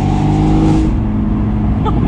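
A tuned Abarth 124 Spider with an open top, engine note dropping off throttle into crackling exhaust pops and burbles, loud and close from inside the car.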